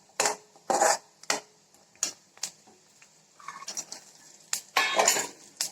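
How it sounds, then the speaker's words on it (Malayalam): A spoon stirs payasam with raisins in a pan while making ada pradhaman: a series of distinct metallic scrapes and knocks against the pan, close and fairly loud, with short gaps between them, alone with no talk. "ഇളക്കി കൊടുക്കാം."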